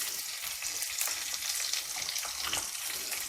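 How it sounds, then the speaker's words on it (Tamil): Green chillies, cashews and curry leaves fry in hot oil with a dense, continuous crackling sizzle, close and even. "இதை லேசாக வறுத்துக்கணும்."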